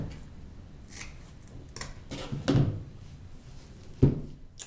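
Scissors cutting folded wired ribbon at an angle for a Nativity storm door wreath, a few crisp close snips with handling noise between.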